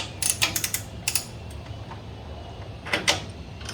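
Bolts on a Harvey table saw are tightened with a half-inch wrench, giving short clusters of sharp metallic clicks and ticks separated by pauses, close and moderately loud over a faint room hiss.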